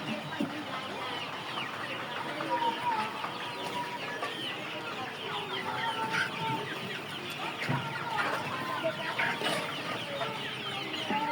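Sonali chickens in a two-floor poultry farm of about 4,000 birds cluck steadily, many overlapping calls forming a dense, continuous flock chatter with no talking.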